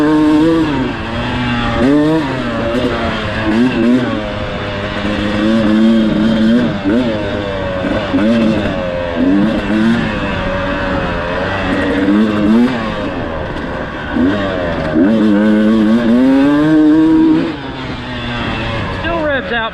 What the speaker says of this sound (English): Still revs out pretty quick.